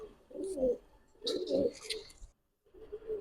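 Highflyer pigeons coo in repeated low, throaty bursts, three rounds with a brief pause between, fairly close and moderately loud.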